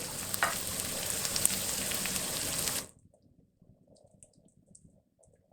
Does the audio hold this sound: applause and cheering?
no